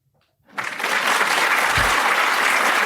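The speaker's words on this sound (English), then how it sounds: "Hit the applause button." A canned applause sound effect triggered from a button bursts in after a moment of near silence, then holds as a steady, dense wash of clapping with no talk over it.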